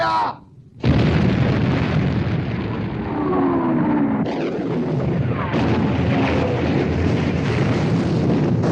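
Naval guns fire in a 1960 sea battle about the Bismarck, a sudden blast followed by a sustained roaring rumble of shell explosions at sea, with fresh bursts cutting in later, loud and close.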